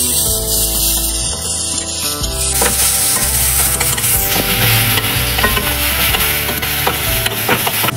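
Green pea paste frying with cumin, carom seeds and asafoetida in a pan while being stirred, a loud, steady sizzle with repeated scraping strokes of a spoon and no speech.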